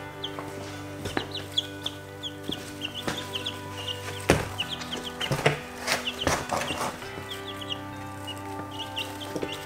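Baby chicks chirping in a brooder in a garage, many small peeping calls overlapping continuously at close range, with a few louder handling knocks and thumps partway through.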